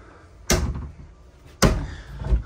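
Two bathroom drawers in a 2025 Coachmen Apex 190RBS travel trailer slide shut, giving two sharp, close thuds about a second apart, each followed by a brief rattle.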